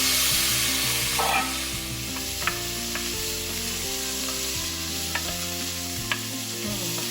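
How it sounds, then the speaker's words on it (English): Vegetables and turmeric sauté in a pan for a chickpea garbanzo stew, a bright continuous sizzle with a few soft stirring taps, sitting under steady background music. "we're going to let it saute for about a minute or two"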